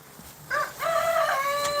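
Rooster in a backyard flock crows once nearby, a clear strained cock-a-doodle-doo with a short lead-in cluck, against a quiet background.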